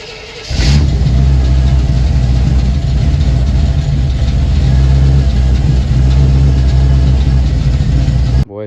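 A crew cab truck engine cranks and catches, then settles into a loud, steady low idle that rumbles on for several seconds before cutting off.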